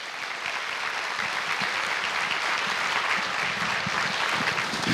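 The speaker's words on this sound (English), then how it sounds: "with a warm round of applause." A school convocation crowd gives a high school principal a warm welcome to the stage with dense, sustained applause that stays loud and even throughout.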